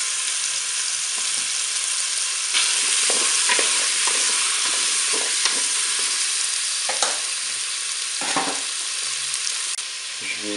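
Twelve beef meatballs and zucchini pieces frying in a pan, a loud, continuous close sizzle with repeated scraping stirs and occasional clicks.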